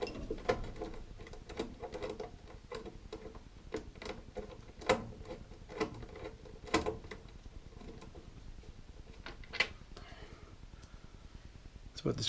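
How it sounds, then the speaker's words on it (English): Sheet metal screws being removed from a Trane XV95 furnace draft inducer motor, a quiet series of clicking, ratcheting mechanical taps scattered irregularly throughout, close and faint. "now we're going to start taking off the screws"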